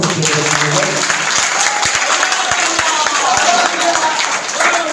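Loud applause from the crowd at a Trinamool Congress political gathering held at a wedding venue, dense and steady throughout, with a few sharp individual claps standing out and faint voices mixed underneath.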